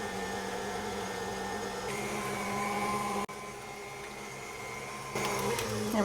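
Electric mixer beating pumpkin pie filling with two eggs, a steady loud whirring drone that shifts pitch slightly partway through as the speed is raised, running continuously without pause.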